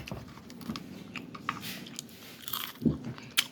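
Close, quiet chewing and biting while eating dried fish with fish soup, soft crunches and moist mouth sounds at an irregular pace, with a few sharper crunches near the end.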